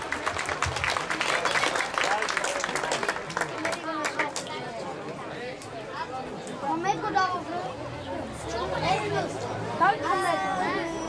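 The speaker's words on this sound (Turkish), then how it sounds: "Çocuklarımıza bir alkış rica ediyorum sizden." A kindergarten show audience breaks into applause and cheering for the children, loud and continuous at first, then thinning into scattered clapping and chatter.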